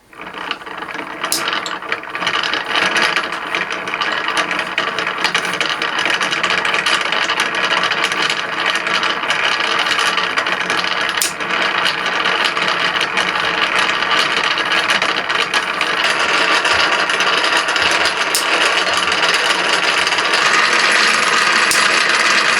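Fine wire being wound onto the pick-up coil of an HMV No 11 gramophone gives a steady, close mechanical whirring with a ratchet-like clicking texture. It runs continuously and evenly for over twenty seconds, with a few sharp ticks and no talk.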